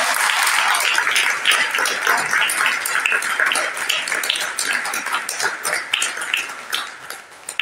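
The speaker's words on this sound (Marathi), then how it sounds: "आपण सर्वांकरता आणि रत्नोदय करता जोरदार टाळ्यांचा गजर करावा" An audience at a meditation retreat gathering applauds, a burst of many hands clapping close and lively that thins out toward the end.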